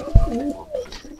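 Pigeons coo inside a pigeon house, a close, low warbling call with a gliding pitch over about a second, preceded by a soft thump.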